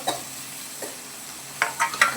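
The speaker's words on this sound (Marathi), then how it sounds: "हे सगळं तेलात तळून घ्यायचंय." Spice masala frying in oil for a bitter gourd dish, a soft steady sizzle with a few brief scraping stir sounds near the end.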